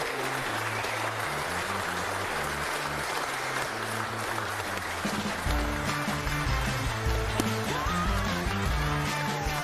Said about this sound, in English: Big round of applause for the beautiful couple.